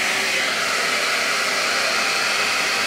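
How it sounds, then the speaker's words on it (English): A handheld hairdryer blows steadily at close range while hair is smoothed with a brush, a loud, constant airy roar without pauses or voices. "and put the hairdryer on."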